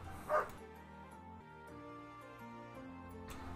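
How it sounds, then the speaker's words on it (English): One short, fairly loud dog bark near the start, then steady background music from a strategy game continues on its own. "Okay, well, you stop barking now."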